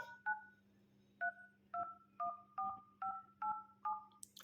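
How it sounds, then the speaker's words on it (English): Dial pad tones on a Xiaomi Mi 10T phone as a number is entered: nine short, clear electronic beeps in a steady sequence over a low steady hum, with no talking. "so this dial pad tone is enabled"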